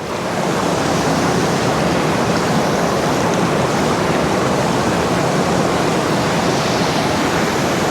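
Steady, loud rushing water pours continuously over a low barrier, a small dam on a cool, deep stream in Sri Lanka, a dense roar with no pauses or voices.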